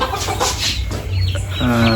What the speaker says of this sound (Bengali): ফেন্সি মুরগির বাচ্চা থাকবে